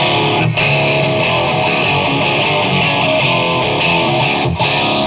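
Heavily distorted electric guitar run through a TANK-G unit with reverb, playing a continuous loud, thick riff with steady strummed attacks and almost no gaps.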